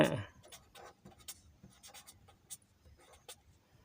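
A pen scratches across paper in short, quiet strokes and taps, with brief pauses between marks, faint and close.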